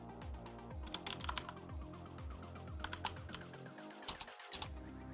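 Quick clusters of close, clicky keystrokes on a computer keyboard during a game development livestream, the taps scattered and uneven over a soft musical bed, with a brief dip in the background near the end.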